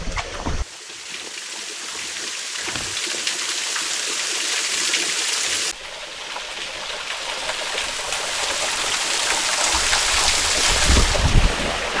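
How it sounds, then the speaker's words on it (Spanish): Water spilling over a small waterfall with only a little flow, the Sanara cascade on a stream near the Genal river. It is a steady broadband rush that grows louder as it comes closer, with no talk. "Vamos a ver si nos encontramos la cascada de la Sanara con un poquito de agua."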